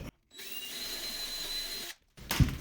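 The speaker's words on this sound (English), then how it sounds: "And then take your time drilling too." A power drill boring holes into a wall-mounted cabinet, running in a sustained whine for over a second, stopping briefly, then starting again close and loud.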